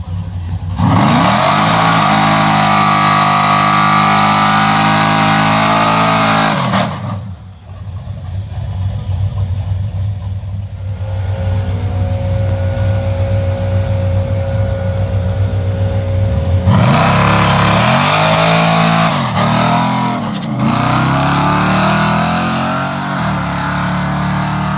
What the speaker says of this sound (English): my first pass come off the trans brake, and well, I'll just show you the video so you can see it.